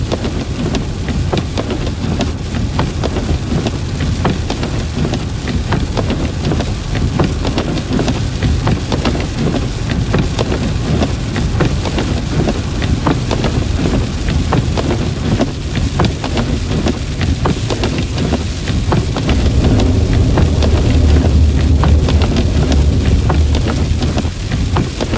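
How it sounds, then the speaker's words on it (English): Sleet pelts a car windshield during a heavy winter storm in the Southern Plains, a dense, steady patter that keeps up for the whole stretch with no voices. "It's a little, very sleety, as you can hear on my windshield."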